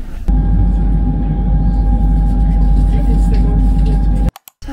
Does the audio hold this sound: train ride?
yes